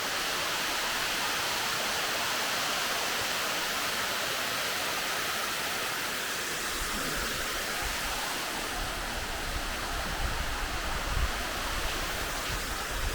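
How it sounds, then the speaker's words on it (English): The Jermuk waterfall in an Armenian mountain river valley pours in a dense, steady roar of falling water, loud and unbroken throughout, with no voices. "Made it down to the famous waterfall of Jermuk."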